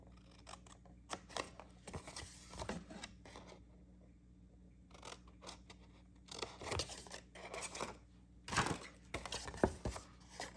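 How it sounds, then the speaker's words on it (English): Scissors snip the four corners off a sheet of paper while folding a petunia pop pinwheel, giving quiet, close, irregular cuts in short bursts with pauses between them and no talking. "So I'm just going to cut out the 4 corners."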